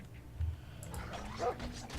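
A dog in the Game of Thrones video game gives a couple of short, muffled barks and whimpers, low in a busy game soundscape of combat and background noise.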